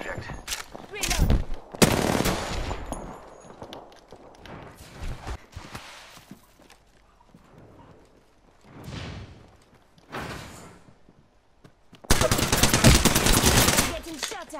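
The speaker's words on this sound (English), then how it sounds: "Getting shot at" Gunfire in the Apex Legends battle royale game: loud bursts of automatic fire, with a long sustained volley near the end and quieter scattered shots and gaps between them, and a voice briefly heard in places.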